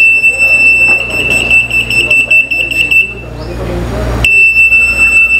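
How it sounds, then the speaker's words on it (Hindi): An RF anti-theft security gate at a store exit sounds a loud, piercing continuous electronic beep tone that cuts out briefly, then resumes, while someone talks underneath. "ये ऐसा अलार्म दे देगा।"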